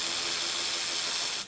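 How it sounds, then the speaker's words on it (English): Ratchet tightening head bolts on a Subaru EJ25 engine of a 2006-2010 Forester, a fast, continuous clicking of the pawl, close and fairly loud, then stopping abruptly. "Just get some good threads started and then tighten them down."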